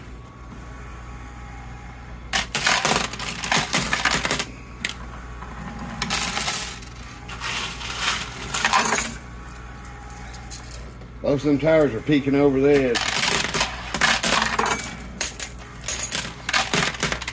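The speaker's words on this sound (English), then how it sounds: "Hey, there went one of the gold coins." Coins clatter and drop in bursts inside a coin pusher arcade machine loaded with quarters and gold coins, metallic jingling recurring through the clip beneath someone talking over steady machine hum.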